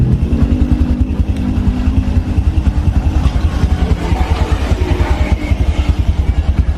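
A Honda Blade motorcycle with starter trouble idles close by, its engine putting out a steady, even rapid thumping pulse with light mechanical clatter and no revving.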